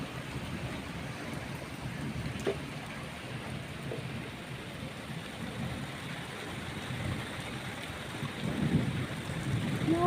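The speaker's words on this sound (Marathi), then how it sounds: "इतकं मस्त पाऊस पडतोय यार." Steady, dense rainfall pours down without a break, a constant wash of noise that swells slightly louder near the end. No voices.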